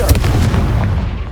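A Confringo fire spell blasts in Hogwarts Legacy, a loud booming burst up close that rolls on in a dense rumble.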